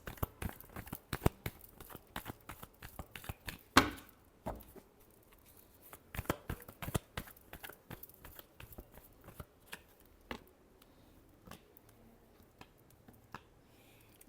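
Tarot cards shuffled by hand in a quiet room, a run of sharp riffling snaps and crisp papery flutters with short pauses, close and fairly loud, no voice over it.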